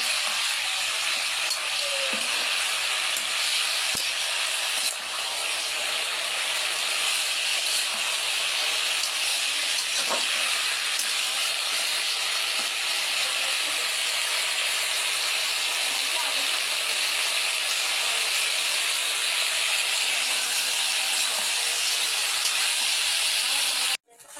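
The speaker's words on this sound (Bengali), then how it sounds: "আমি তরকারিটা কষাই নিচ্ছি সুন্দর করে।" Curry being sautéed in a pan gives off a loud, steady, hissing sizzle close by that runs unbroken for the whole stretch, with only faint stirring touches.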